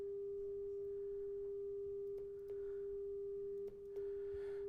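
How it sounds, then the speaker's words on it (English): A pure 400 hertz sine wave tone holds steady and unbroken throughout, with a few faint clicks over it. "I'm going to create another 400 hertz sine wave"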